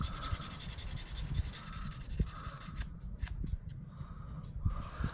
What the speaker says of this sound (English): now I'm just doing a little bit of light sanding on some of the problem areas